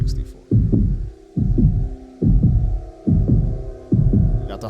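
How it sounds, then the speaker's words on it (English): A deep, booming heartbeat pulses through the intro of a song, loud, thumping double beats repeating roughly every second over a low hum. "Got the heartbeat, the heart of the city."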